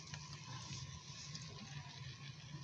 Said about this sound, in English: Add some salt and a bowl of water.